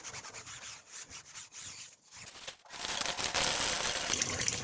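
Greasy kitchen items are scrubbed with soap, a rough rubbing scrub that turns louder and denser in the second half, with no talking.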